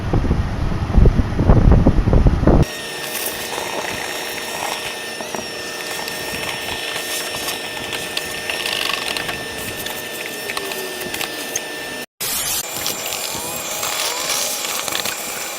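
Vacuum cleaner sucking debris out of the HVAC fan housing of a 1997 Jeep Grand Cherokee, starting abruptly after a few seconds of close rustling and handling, then a loud steady roar that cuts out briefly and resumes.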